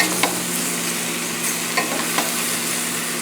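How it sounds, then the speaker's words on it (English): Chunks of calves liver and onions fry in a pan while being stirred, with a steady close sizzle and a few sharp scrapes of the utensil against the pan. "This has to take a lot of stirring"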